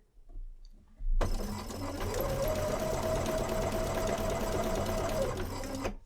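A sewing machine runs steadily for about five seconds while stitching a curved seam in fabric, a close, continuous motor whir with rapid needle chatter that starts abruptly after a soft handling noise.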